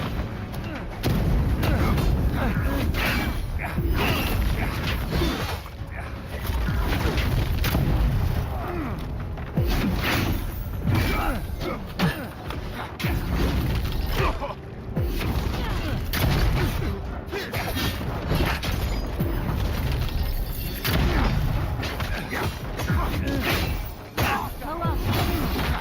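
Grenade blasts in the fantasy action game Avowed, with repeated booms and crashing impacts packed into dense continuous combat noise, under voices talking throughout.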